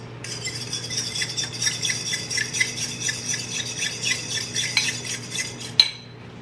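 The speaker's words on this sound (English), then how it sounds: "Whisk together." Two eggs are whisked in a bowl, producing steady rapid clinking and rattling of a metal whisk against the sides, fairly close and continuous for several seconds, ending with one sharper knock. No one speaks.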